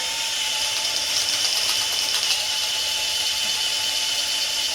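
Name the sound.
power drill drilling through tire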